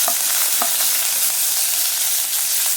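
Sliced onions hit hot oil that already holds popped mustard seeds, for a beans and lentil poriyal. A loud, steady sizzle fills the pan, with a few spatters and scraping stirs near the start and no voices.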